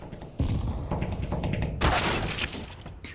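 Rifle fire in Counter-Strike on Mirage during a professional esports match, a few sharp cracks and thuds mixed with impacts and in-game clatter, dense and close, no talking.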